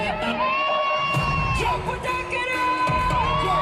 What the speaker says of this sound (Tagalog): Grabe yung crowd, no?